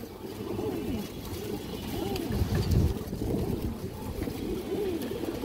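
Pigeons at a seller's loft coo in low, rolling, repeated calls, a steady murmur of several birds against a dense background rumble.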